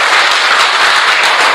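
A crowd at a political rally claps together in a loud, dense burst of applause that holds steady throughout, with no one speaking.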